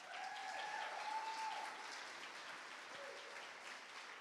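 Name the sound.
audience applause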